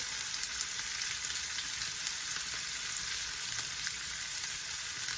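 Garlic puree sizzling in a hot pan while cooking a plantain and vegetable dish, a steady close frying hiss with faint stirring and no talking.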